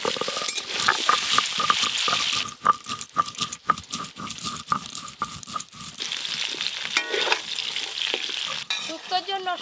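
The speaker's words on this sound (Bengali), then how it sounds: "শুক্তোর জন্য সব সবজি ভালো করে ভাজা হয়ে গেল" Sweet potato, green banana, drumstick stalks and potato sizzling in hot oil for shukto, with a continuous crackle broken by repeated rhythmic scraping and clinking of a ladle against the pan, close and fairly loud.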